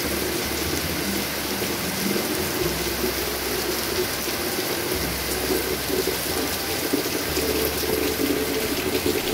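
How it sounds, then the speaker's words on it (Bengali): Heavy monsoon rain falls in a steady, dense hiss with a low rumble underneath. The sound stays constant throughout, with no talking. "দেখো কি জোরে বৃষ্টি হচ্ছে"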